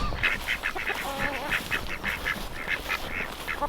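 Hens in a mobile coop crowd around waiting for breakfast, squawking and clucking in a busy, repeated chorus of short calls close by, with steady outdoor noise underneath.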